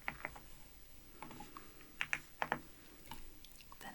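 Computer keyboard keys clatter softly and close up in an irregular run of taps, with a few slightly sharper clicks near the middle, in a quiet room.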